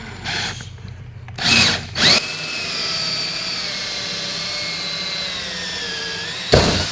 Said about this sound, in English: We're using a hole saw bit.